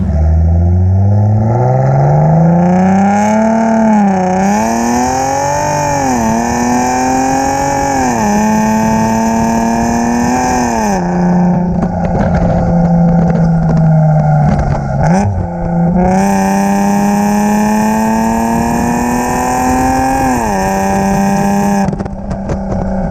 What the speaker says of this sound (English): You do have a full exhaust, I believe a full exhaust on this car, so it definitely makes some noise.